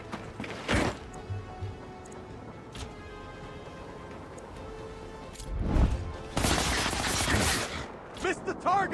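Video game gunfire with scattered sharp shots and short bursts, some spaced apart and others clustered near the end, over ambient game noise with light talk.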